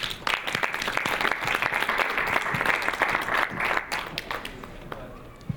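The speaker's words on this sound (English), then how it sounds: "Let's give a round of applause for Rodrigo." Conference audience at the WCF 2022 activism event gives a steady round of applause for a guest speaker, dense clapping that holds evenly for several seconds before tapering off, fairly faint and distant.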